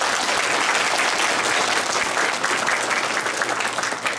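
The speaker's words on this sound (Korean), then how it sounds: "다시 한번 뜨거운 박수" Warm applause for a city mayor at a meeting with public officials, a loud, dense, continuous clapping of a crowd that holds steady throughout with no voices.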